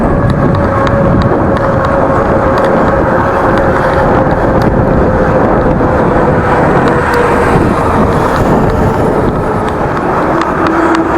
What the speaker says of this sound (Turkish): Ağustos ayında kuzeyden rüzgar esiyor.